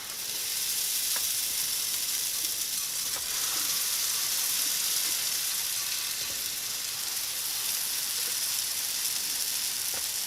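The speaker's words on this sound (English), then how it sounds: "we are going to fry these. And I put a little butter on each side." Chicken avocado burritos fry seam side down in butter, giving a steady, close, unbroken sizzle that holds at an even level throughout.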